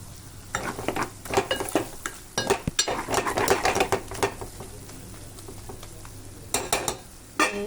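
Mutton frying in a pan with chili powder, coriander powder, garam masala and mutton masala for a ghee roast, steady sizzling broken by repeated scraping and stirring of a spoon against the pan, no voices.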